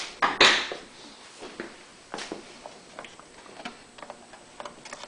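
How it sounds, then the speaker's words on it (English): A Phillips screwdriver tightening the screw on the spark plug cover of a Honda EU6500is generator makes close, sharp ticking clicks, with a few louder knocks at the start followed by lighter, irregular ticks. "tighten down the Phillips head screw that holds the spark plug cover in place"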